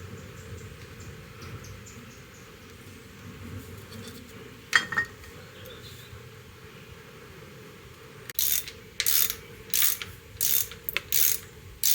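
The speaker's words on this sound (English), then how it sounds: "This drain plug must be tightened to between 14 and 30 foot-pounds per torque" A ratchet wrench tightens the transmission drain plug on a 2016 Harley-Davidson Sportster XL1200C, with several short, close bursts of rapid clicking after a long stretch of low background hum.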